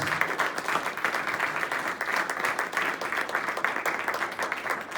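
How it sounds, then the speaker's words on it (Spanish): Applause from a church congregation fills the space with dense, steady clapping that stays loud and continuous throughout, with faint voices mixed in. "Denle un aplauso al Señor, hermanos"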